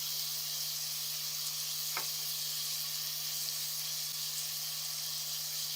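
Ground chicken and onions fry for keema pyaz, giving a steady, even sizzle throughout with a single brief stir or scrape partway through.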